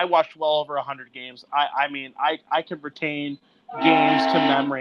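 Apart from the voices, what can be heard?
train with horn passing in background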